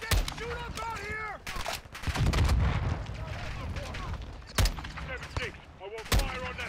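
Call of Duty: Modern Warfare II combat: scattered gunshots and heavier booming bursts crack out around a firefight, mixed with shouted soldier voices and radio chatter.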